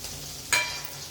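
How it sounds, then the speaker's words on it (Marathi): Chillies drop into hot oil in a kadhai while making thin-poha chivda, a steady sizzle with a brief sharp crackling burst as they land, then continued frying hiss. "आता आपण कढीमध्ये ह्या मिरच्या घालूया"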